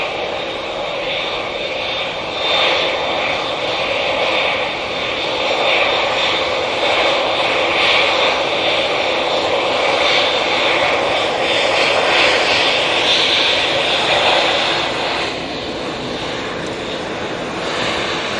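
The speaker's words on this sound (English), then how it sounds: "We have the stunning Qatar Dreamliner coming on right in front of us." A Qatar Airways Boeing 787 Dreamliner jet at Manchester Airport roars steadily as it passes, a broad sustained engine rumble that swells and eases over the span with no talk.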